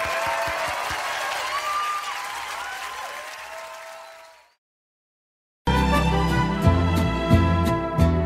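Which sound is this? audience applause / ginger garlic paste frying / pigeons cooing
audience applause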